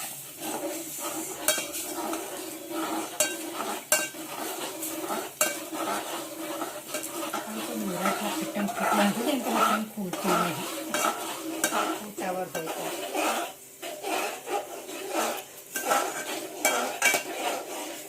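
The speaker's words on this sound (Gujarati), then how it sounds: "ચમચો ફેરવજો, જાડું ના થઈ જાય." A metal spoon stirs gram flour batter in a pot for kadhi, scraping and clinking against the sides in an uneven rhythm. A soft sizzle runs underneath, and there is no talk.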